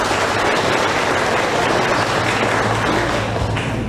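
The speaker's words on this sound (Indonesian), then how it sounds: "Kita beri tepuk tangan sekali lagi." A church congregation applauding together during a Sunday service with adult baptism and confirmation, dense steady clapping from many hands filling the hall for several seconds.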